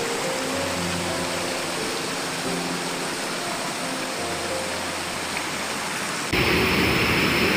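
River water at a hillside villa flows steadily in a loud, broadband rush, close and continuous. It grows brighter and louder near the end.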